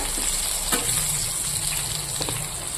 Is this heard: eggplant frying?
yes